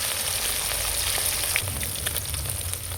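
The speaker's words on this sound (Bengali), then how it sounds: "মাছ আমার ভাজা হয়ে গেছে লাল করে তুলে নেবো" Well-browned rohu fish crackle in hot oil in a close, steady sizzle with small pops and a faint scrape or two; no voices.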